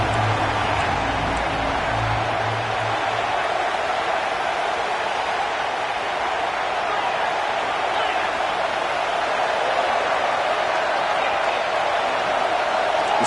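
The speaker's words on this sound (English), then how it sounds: "Tremendous crowd atmosphere now in the final minute of play." Broad roar of a stadium crowd at a college football game between SMU and Ohio State in the final minute of play, a steady, dense wash of cheering noise holding evenly throughout with no distinct voices.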